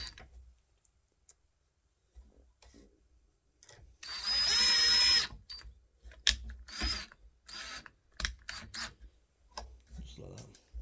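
A door latch is screwed into place with a power drill, giving one loud whirring burst followed by ratcheting clicks and handling knocks, close by, while a person talks.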